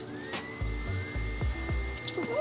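Hair dryer blowing air onto a face, a steady close whir running throughout with a few brief low thumps as it is moved around.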